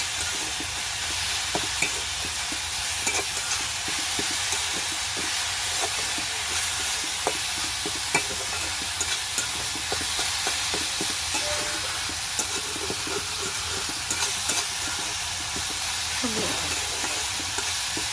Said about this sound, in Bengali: আবার উঠে একটু লাড়াচাড়া দিয়ে দিলাম আমাদের শাকটা